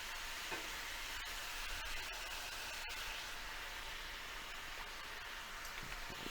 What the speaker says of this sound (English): We go ahead and put our sauce in, and then I'll add my broccoli as well